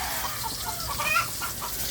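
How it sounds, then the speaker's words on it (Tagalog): A chicken clucks in short repeated calls over a steady background hum, close by and moderately loud. "Ingay nung ano ba to? Yung manok."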